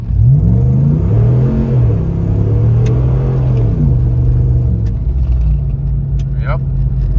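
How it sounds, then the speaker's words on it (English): A Ram 1500 pickup truck on mud tires accelerates, its engine rumbling and revving up through gear changes, loud and close. Faint rumble and tire noise follow. "See if these mud tires will dig."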